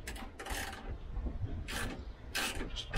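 A loose door window regulator in a 1973 Triumph Stag rattles in several short, scraping metallic bursts, close and fairly quiet, separated by brief pauses.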